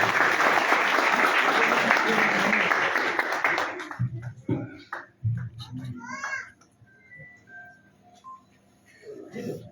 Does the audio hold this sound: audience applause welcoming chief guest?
yes